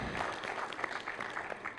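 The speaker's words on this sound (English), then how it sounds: "Let's give a round of applause." An audience breaks into applause, a dense, even patter of many hands clapping together, fairly close and with no voices over it.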